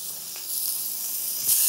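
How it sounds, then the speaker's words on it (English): Chicken kebabs sizzle on a hot griddle pan, a steady bright hiss that holds close and even throughout, with a slight swell toward the end. "That sizzle is not only gonna cook it, but it's gonna add that lovely charred flavor"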